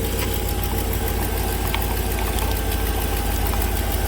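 Exhaust leak on an idling 6.0 Silverado V8, heard as a steady close-up engine rumble with a faint rapid ticking pulse running through it, constant and alone without talk.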